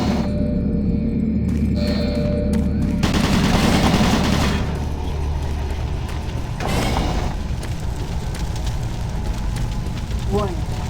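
Automated turret guns in the Doom 3 video game fire in sustained crackling bursts, loud at first and then thinning into intermittent shots over a steady low drone.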